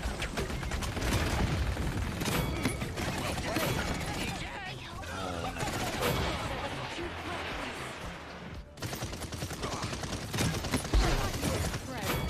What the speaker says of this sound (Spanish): suenan más los disparos que la música